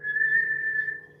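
A person whistles with their mouth to imitate a lifeguard's beach whistle blast, producing one sustained, steady, shrill tone for just over a second, close and clear with no talking.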